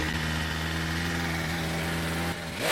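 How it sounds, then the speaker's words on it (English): A 2021 BMW M1000RR inline-four motorcycle engine runs loud and steady at high revs, then dips briefly and surges again near the end. "The engine roars loudly, a powerful sound."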